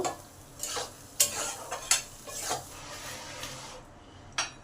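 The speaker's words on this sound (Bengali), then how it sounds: "দইটা যে দু মিনিট ভালো করে কষে নেব" Yogurt cooks in a pan for doi potol, a vegetarian potato and pointed gourd curry, as a spoon scrapes and stirs it in several short rhythmic strokes over a soft sizzle, fairly quiet and close.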